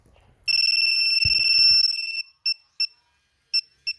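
A two-way alarm system on a Suzuki Raider 150 motorcycle emits a shrill, continuous electronic tone for about two seconds, followed by four short sharp beeps, close and loud.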